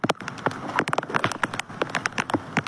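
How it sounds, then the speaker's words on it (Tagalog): Rain patters steadily with dense, irregular drops tapping a hard surface close by. "Andyan na yung ulan."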